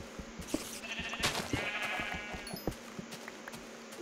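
Sheep bleat repeatedly in a video game, a few wavering calls over a steady busy background of game ambience and clicks, moderately loud and close.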